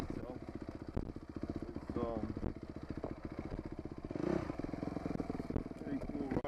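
A dirt bike rides a trail near the flumes of central Oahu in Hawaii, its engine buzzing steadily and close with shifting revs, clatter and scraping over the rough ground, and a rider speaking briefly over it.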